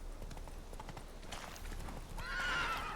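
A horse gallops in The Witcher 3 with rapid clip-clop hoofbeats and then a loud neigh near the end, heard up close over a quiet game background.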